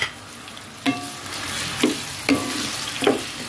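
Soy sauce stirred into sizzling meat for Filipino adobo in a hot pan: a steady frying hiss with several spaced scraping strokes of the spoon, close and clear, no voices.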